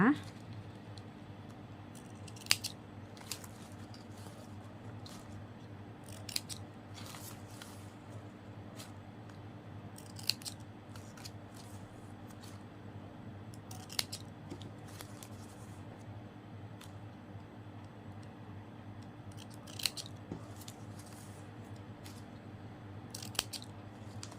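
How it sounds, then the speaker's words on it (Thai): Scissors snip the ends of ribbon while making lotus-flower coin garlands, a series of sharp, close clicks spaced every few seconds over a steady low room hum. "ตัดปลายริบบิ้นให้เสมอกันก่อนนะคะ"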